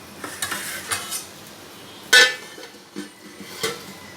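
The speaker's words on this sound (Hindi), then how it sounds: "अब इसका मसाला मैं भून लेती हूँ" Spices and tomatoes are sautéed as a masala in a pan over a low flame, with a faint sizzle under intermittent scraping and clinking of a metal spoon against the pan, one sharp clank standing out midway.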